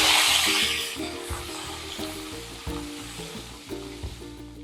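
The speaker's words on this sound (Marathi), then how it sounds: "अशी तेलामध्ये छान परतून घ्यायची कोथिंबीर" Coriander leaves fry in hot oil with a pinch of asafoetida in a pan, giving a steady close sizzle punctuated by repeated stirring scrapes.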